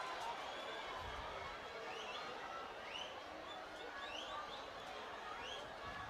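Stadium crowd at a rugby final, a steady loud roar of many voices with whistles and rising shouts throughout, close and continuous, with commentary faintly underneath.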